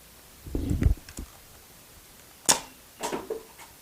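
Two sharp test shots from a homemade PVC air shotgun, each a quick burst followed by a short rattle, with a low thump and some handling noise just before; the shots are moderately loud and heard alone, with no talk.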